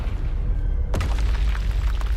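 A Confringo blasting spell explodes in the game Hogwarts Legacy, one sudden loud boom that hits after a low rumbling bed and then trails into a crackling, sustained roar.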